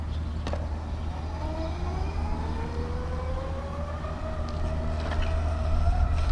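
A Daymak Photon solar electric kick scooter ridden at top speed gives a rising electric motor whine that climbs in pitch over a steady low rumble, with a couple of brief clicks.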